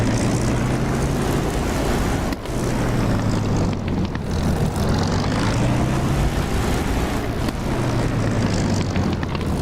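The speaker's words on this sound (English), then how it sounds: "there is 109's over the airfield" Bf 109 propeller fighters fly over an airfield in the DCS combat flight simulator, a loud, steady droning engine roar that swells and fades slightly across the whole stretch, with no voices.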